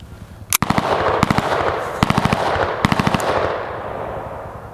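Rapid bursts of Staccato C2 pistol fire crack sharply outdoors, a single shot followed by quick strings of four to five rounds, loud with fading echo.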